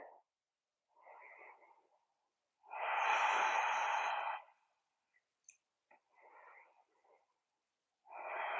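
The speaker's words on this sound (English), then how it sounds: "Long, deep breaths in and out through your nose" Slow, deep breathing in and out through the nose during a yoga tree-pose practice, with audible nasal inhales and longer, heavier exhales separated by quiet gaps.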